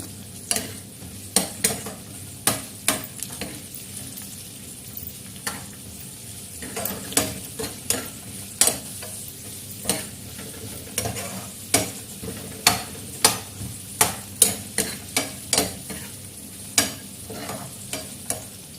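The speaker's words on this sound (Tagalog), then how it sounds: "Sumusin natin yung ating sibuyas." Onions sautéing in a pan, a soft continuous sizzle punctuated by repeated sharp clacks of a utensil stirring and scraping against the pan, close and without talk.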